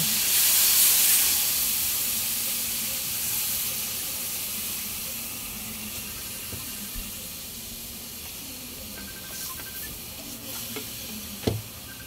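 Water poured into a hot pan of chicken and chayote sets off a loud, hissing burst of steam and sizzle that gradually settles into a steady simmering hiss, with a faint clink near the end.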